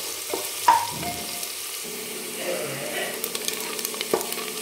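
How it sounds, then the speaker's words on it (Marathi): Chopped onion softening in hot oil in a pan for a spicy village-style dry mutton dish, a steady close sizzle with occasional stirring scrapes and small crackles, no voices. "त्याच्यामुळे आपल्याला थोडासा शिजवून घ्यायचा आहे कांदा, थोडक्यात नरम करून घ्यायचा।"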